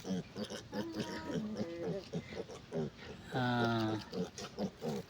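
A piglet grunts and squeals close by among mixed talk on a farm, with one longer, louder squeal standing out in the middle.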